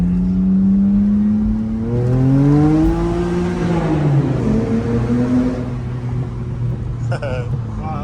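2011 BMW E92 with resonator and secondary cat delete pulling hard in first gear, exhaust note climbing steadily in pitch to high revs then dropping off into a lower drone, loud and close inside the car.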